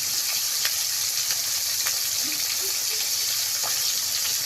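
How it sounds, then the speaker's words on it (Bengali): Chicken pieces coated in salt and turmeric frying in oil, a constant dense hiss with faint pops and stirring taps, steady and fairly close. "আমি চিকেনগুলো ভেজে নিব।"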